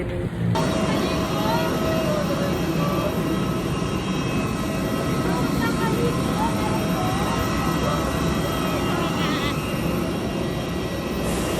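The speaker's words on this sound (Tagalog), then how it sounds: "eto na nga ang aeroplano ng AirAsia" Large airliner at an airport, an AirAsia plane, with a steady loud broadband roar of engines throughout and voices talking faintly beneath it.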